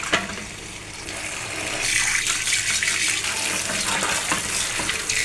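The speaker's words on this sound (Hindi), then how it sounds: "अब हम अपनी सब्ज़ी भी धो लेते हैं।" Water from a kitchen tap streams steadily over tinda (round gourds) being rinsed, a continuous splashing hiss that grows fuller and busier midway as the vegetables meet the flow, with no voices.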